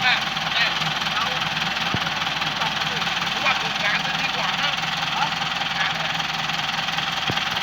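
A tractor engine drones steadily, pulling a stuck truck, with a loud, constant rumble and a couple of sharp knocks, while a voice talks over it.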